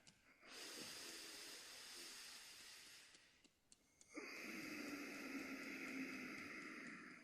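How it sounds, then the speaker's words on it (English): Deep diaphragmatic belly breaths drawn through the nose at night near a cemetery grave, two long airy hissing inhales or exhales close to the mic, separated by a brief pause, with no talking. "natural nose, deep diaphragmatic belly breathing"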